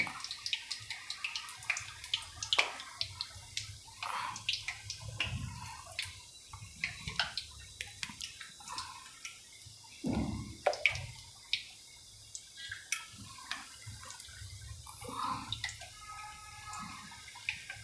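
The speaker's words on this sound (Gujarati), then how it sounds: "પાલકમાં થોડુંક પાણીનો ભાગ હોય ને એટલે એનો તડતડો અવાજ આવે" Fresh spinach with a little water in it crackles and spits as it fries in hot oil, a steady scatter of sharp pops and ticks at close range with no talk over it.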